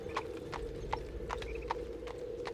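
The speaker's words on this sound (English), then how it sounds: "We listen to the sound of hooves receding into the morning" A single horse's hooves clip-clop in a steady, even rhythm of about a dozen crisp strikes over a low background hum.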